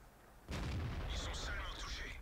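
A single heavy tank cannon blast in a video game erupts abruptly and rolls into a sustained rumble, with faint higher crackling noise trailing after it.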